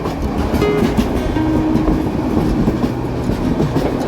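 Kishoreganj Express passenger train running on rails between Dhaka and Bhairab, a steady, loud rumble with clickety-clack of wheels on track throughout, heard from inside a carriage with no voices.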